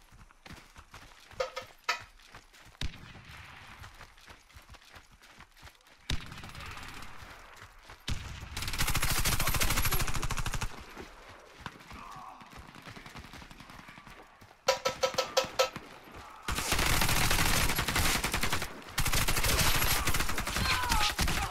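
Calico weapon gunfire in the Warface shooter game, several loud sustained automatic bursts separated by short pauses, up close and dominant.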